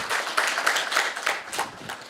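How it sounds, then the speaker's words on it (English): A conference audience applauds Dr. Demas with a steady, dense patter of many hands clapping, moderately loud and filling the whole short stretch. "May we please give her another round of applause?"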